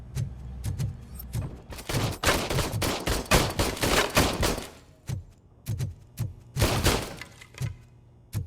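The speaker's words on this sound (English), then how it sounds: "I just missed the sound of gunfire" Bursts of video game gunfire crack out in rapid clusters, close and loud, with short pauses between volleys and no talking.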